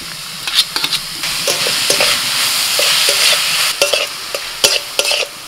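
Chopped onions hit hot oil with fried curry leaves, setting off a loud, steady sizzle broken by repeated spatula scrapes and knocks against the pan as they are stirred.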